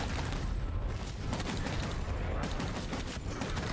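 Twin pistols firing in the video game Kiborg: rapid, continuous gunfire with heavy booming impacts, loud and dense throughout with no pause.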